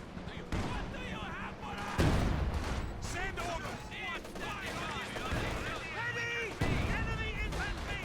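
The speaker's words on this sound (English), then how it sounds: "Gotta be careful that it's this barrage though" An artillery barrage from Company of Heroes 2 in a 2v2 match on Wolfheze, with heavy booms around two and six and a half seconds amid scattered gunfire, nearly buried under continuous commentary.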